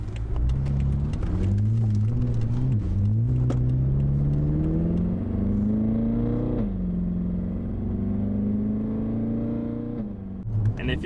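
BMW M5 engine in sport mode revving and accelerating hard, a loud steady roar with rising and falling pitch as the revs climb and shift, continuous throughout and close by.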